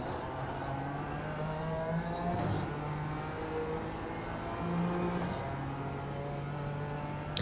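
BMW M4 GT4 race car engine in the iRacing sim at Sebring, droning steadily with a sustained harmonic whine that rises slightly as the throttle comes back on in third gear, close and continuous without talk.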